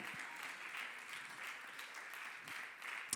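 A congregation in church claps together in praise, a soft, fairly distant and even patter of many hands that holds steady throughout, with one sharper clap right at the end.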